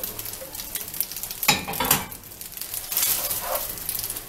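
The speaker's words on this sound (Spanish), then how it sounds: "Y seguimos revolviendo." Spaghetti with surimi and chopped parsley stirred in a pan over medium heat: a steady soft sizzle with scraping utensil strokes and a few louder stirring swishes, close and moderately quiet.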